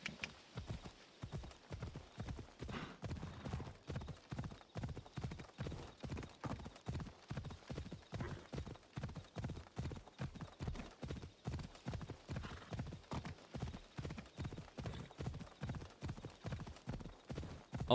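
Horse hooves clip-clop in a steady, fast rhythm through a game world in Assassin's Creed Odyssey, loud and close, with occasional faint speech.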